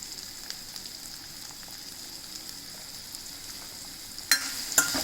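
Pieces of raw Totapuri mango fry in a generous amount of oil, a low, even sizzle that stays steady, with two brief sharper scrapes of stirring near the end.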